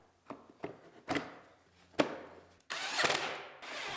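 Power drill driving fog light screws on a 2018 Ford Explorer Limited AWD during a collision rebuild, heard as short separate clicks and bumps followed by a brief motor whir, close and moderately faint.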